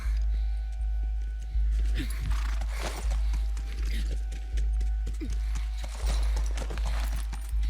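Horse hooves in the video game The Last of Us clip-clop in a steady, looping walking rhythm over a constant low hum, with faint background noise and no clear talk.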